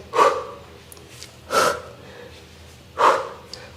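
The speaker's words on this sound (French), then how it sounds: "On respire." Three heavy, forceful breaths during a core workout, each a sharp close-miked exhale with a slower fade, evenly spaced about a second and a half apart, with nothing else between them.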